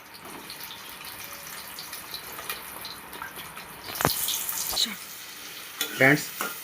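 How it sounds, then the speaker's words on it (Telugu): Sliced onions and cumin seeds fry in oil for an onion curry, a soft steady sizzle with a few sharper crackles and spatters, faint throughout. "ఇప్పుడు మనం ఆయిల్ వేసినాం, ఉల్లిగడ్డ వేసినాం, జీలకర్ర వేసినాం. లైట్గా కొంచెం డీప్ ఫ్రై అయ్యేదాకా చూసుకుందాం"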